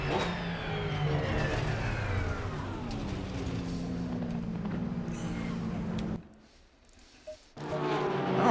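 Porsche race car engine in a racing video game, a steady droning engine tone that shifts pitch as the car slows after the finish, cutting out briefly near the end before returning.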